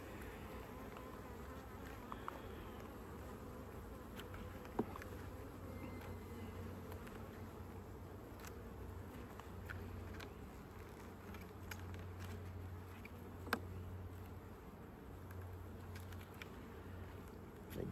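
Honeybees hum and buzz around an opened beehive during an inspection, a soft continuous drone with occasional light taps and clicks, fairly distant and quiet, with no speech.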